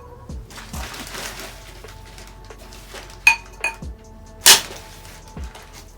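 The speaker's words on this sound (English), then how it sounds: "Let's see what happens when I hit this from the inside of the pot out." A ceramic bonsai pot struck from the inside with a tool, several sharp clinks and knocks followed by a bright, cracking break, close and alone.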